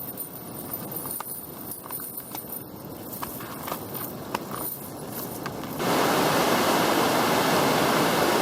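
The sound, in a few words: rushing water released in large volume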